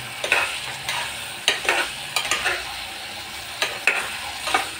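A spoon stirs homemade red chili masala into a frying pan mixture for a brinjal and potato curry, giving repeated scraping strokes over a soft, steady sizzle.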